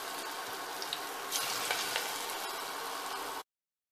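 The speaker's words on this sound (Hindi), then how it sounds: "अब मैं अपने बाकी पकोड़ों को भी तलने के लिए ऑयल में डाल दे रही हूँ" Green chickpea leaf pakoras frying in mustard oil, a steady, hissing sizzle with scattered small pops and a brief louder flare, heard alone at moderate distance before cutting off abruptly.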